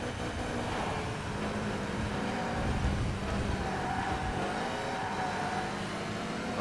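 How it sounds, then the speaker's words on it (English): A GT race car's engine in the TOCA Race Driver 3 video game, droning loud and steady down the back straight at Snetterton, a continuous engine roar with no talk. "Mason and Baton pulling away at the front as we go down the back straight here at Snetterton."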